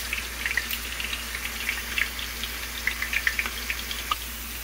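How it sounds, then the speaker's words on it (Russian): Potatoes fry in oil with soft, steady sizzling and scattered small pops and crackles over a low constant hum. "Картошечка у нас жарится."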